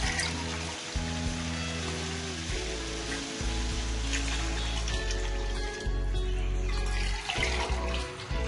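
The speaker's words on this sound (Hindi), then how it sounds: "मग पानी का डालना है।" Water pours steadily into a cooking pot for chana pulao, a continuous loud rushing splash with no pauses and no talking.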